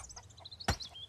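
A single chicken in the survival game MIST Survival gives a short cluck over faint chirpy ambience, one sharp burst standing out near the end.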